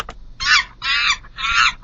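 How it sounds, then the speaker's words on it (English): Monkey sound effect: three loud, shrill, rasping calls of roughly equal length in an even rhythm, close and alone with no talk. "And I have a monkey sound effect."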